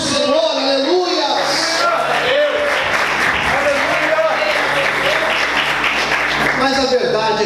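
Church congregation applauding in praise, a loud, dense wash of clapping from many people, with voices and shouts mixed in above it for the whole stretch.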